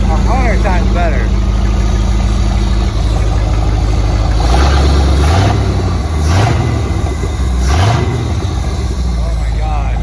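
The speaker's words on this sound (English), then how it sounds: "Listen to that idle though." A 1991 Pontiac Trans Am GTA engine idles loud and close, with a few brief revs rising and falling midway, while people talk over it.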